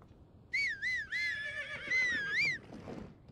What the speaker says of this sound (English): Is that my horse?